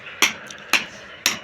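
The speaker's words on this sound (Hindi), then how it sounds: "लाइट फिटिंग करने के लिए हथौड़े को ठोको ठोको" Three sharp hammer blows ring out at an even pace during light fitting work, each a crisp close impact with a short fading ring.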